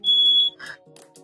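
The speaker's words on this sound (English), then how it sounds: "Oh, and my fire alarm's going off." A home smoke alarm sounds a loud, piercing electronic beep up close, followed by softer beeps and chirps as it cycles.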